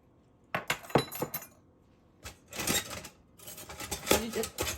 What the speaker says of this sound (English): I'm sorry for the noise. I'm trying to get the whisk that I want.